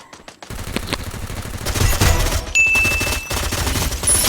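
Gunfire from the Free Fire video game crackles in rapid bursts and sustained automatic volleys, loud and close, with a short pause and a high electronic tone partway through.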